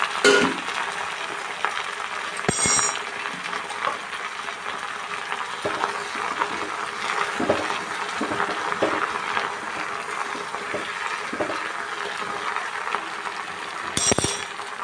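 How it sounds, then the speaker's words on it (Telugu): Gongura leaves frying in a pan, steady sizzle with a run of spatula scrapes and clinks against the pan, plus two brief sharp metallic clatters, no voices. "వాడేదాకా వేయించుకుంది గోంగూర డ్రై అయింది కదా బాగా వాడింది"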